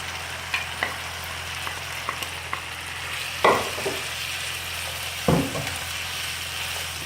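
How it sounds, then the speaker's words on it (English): Plantain stirred into a pot of simmering gizzard sauce, a steady soft sizzle and bubbling with a few spoon knocks and two louder stirring scrapes, close up and without talk. "Now that my gizzard has soaked sauce, I'm going to be adding in my plantain."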